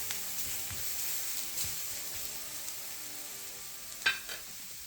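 Garlic stir-fries in oil in a pan as a soft, steady sizzle with faint stirring scrapes, then a sharp clatter of a utensil near the end, no voices.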